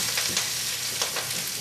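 Dark leafy greens sizzling and crackling in a hot pan, a loud continuous fry with a few brief bursts of tossing with tongs, close up.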